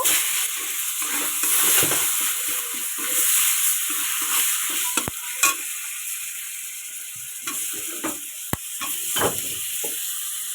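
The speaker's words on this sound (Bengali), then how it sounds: "আলু দিয়ে দিয়েছি ভালো করে এটা কষাই করতে হবে লাল লাল করে" Potatoes frying with cumin powder, turmeric and salt for aloo dum, a loud hissing sizzle close up with occasional sharp scrapes and taps of a stirring spoon, no talk.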